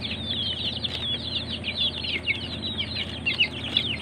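Native chicks peep in a steady, busy chorus of high chirps close by, with occasional wing flutters and clucking over a low hum of farm surroundings, and no talking.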